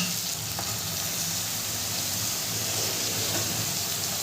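Steady sizzling of potatoes and beans frying in a pan as chopped spinach goes in, with faint scraping of stirring throughout, continuous and close, no talking.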